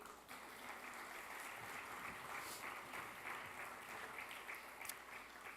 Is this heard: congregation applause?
yes